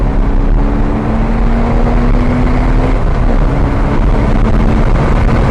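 A loud, close Porsche Cayman S engine roars steadily, its pitch rising slightly as it accelerates.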